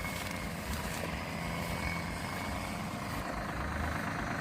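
Farm tractor engine running steadily while hauling grass for cattle, a continuous low droning rumble at close range with no speech.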